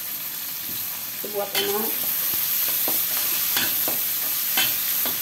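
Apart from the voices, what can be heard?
stir-frying a tomato in a pan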